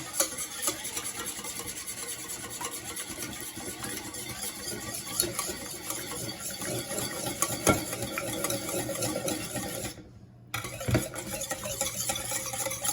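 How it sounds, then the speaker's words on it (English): Eggs and cream whisked together in a bowl for brioche French toast, a steady continuous scraping and beating that runs almost without pause, with one brief break near the end before the whisking resumes. "Whisk."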